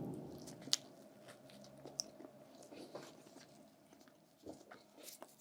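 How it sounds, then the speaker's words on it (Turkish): Soft, close bites and moist chewing of SuperFresh toast pizza in a quiet mukbang setting, with a few small crunchy clicks scattered through a continuous low munching. "Son ısırımızı da alalım."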